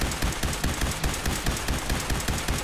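Rapid automatic fire from an Institute rifle in the modded video game Fallout 4, a loud, continuous run of evenly spaced shots.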